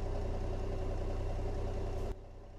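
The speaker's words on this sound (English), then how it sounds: "It's got a loud engine." Steady, loud diesel engine rumble from a Peterbilt 388 wrecker in American Truck Simulator, idling with a low throb and even mechanical hum, then dropping noticeably quieter near the end.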